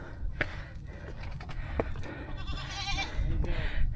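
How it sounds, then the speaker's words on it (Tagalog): Several goats bleat in a hillside setting, with a few short, sharp cries close by and others nearby amid rustling, footsteps and quiet background voices. "Dito sa banda ibabaw, ang daming kambing."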